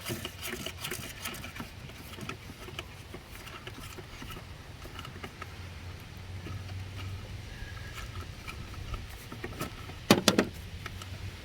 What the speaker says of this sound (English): So grab your ratchet wrench or normal wrench, break it loose.